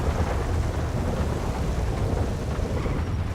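Heavy rain and rumbling thunder from a storm in the Grand Theft Auto V police patrol game, a dense, steady wash of broadband noise with low rumble throughout, loud and continuous without any voices.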